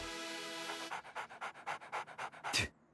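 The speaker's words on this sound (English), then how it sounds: "This is my wolf, Canyon" A wolf pants in quick, rhythmic breaths, about a dozen evenly spaced huffs close to the listener, ending in a sharper exhale; no talking over it.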